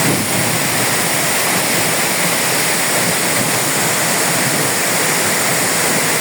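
A waterfall plunging into a deep pool roars loudly and steadily, a dense unbroken rush of water with no voices over it.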